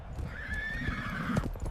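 A horse neighs in a drawn-out whinny close by while hooves clip-clop underneath in a brief, busy patter.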